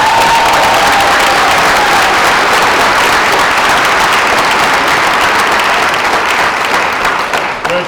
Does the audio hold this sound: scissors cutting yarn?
no